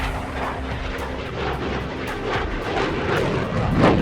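A fourth-generation fighter jet roars through an aerobatic demonstration, its loud rumbling engine noise punctuated by repeated sharp cracking bursts and swelling toward the end.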